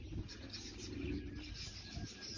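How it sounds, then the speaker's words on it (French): Racing pigeons coo steadily inside the loft on arrival day, a low soft murmuring from several birds close by, with faint chirps mixed in and no talking. "l'ensemble des pigeons est bien rentré, voilà, dans les installations"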